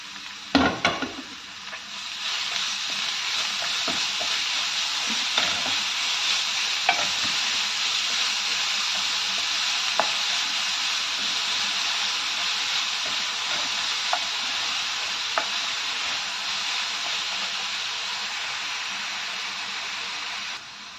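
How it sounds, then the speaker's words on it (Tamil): Onions sauté in a pan for a paneer curry, giving a steady, even sizzle and hiss close up, with a few sharp stirring clicks and scrapes, no talking. "வெங்காயத்தை போட்டு நல்லா வதக்கிட்டு"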